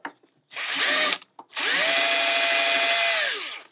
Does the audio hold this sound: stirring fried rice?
no